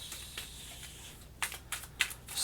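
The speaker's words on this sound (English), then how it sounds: "Let's go ahead, shuffle these all up." A deck of fighting art cards from Kingdom Death Monster is shuffled by hand, quiet papery riffles giving way to a few sharper snaps and clicks near the end, close and soft with no voices.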